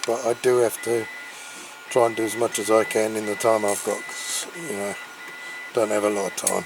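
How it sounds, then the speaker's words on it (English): A 3D printer runs in the background of a workshop, a faint, steady mechanical whir beneath a voice talking close up throughout. "That's my 3D printer going."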